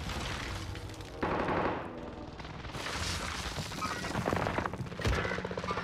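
Call of Duty gunfire and blasts, a loud, dense stretch of shots and explosive bursts with several sharper cracks standing out in a busy battle mix.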